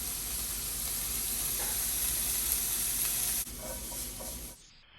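Onions frying in a pan for a coconut chickpea curry, a loud, steady, hissing sizzle close by that drops off suddenly near the end and fades almost to silence, with no voices.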